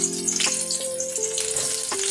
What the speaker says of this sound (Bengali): পেঁয়াজটাকেও লাল লাল করে ভেজে নেব।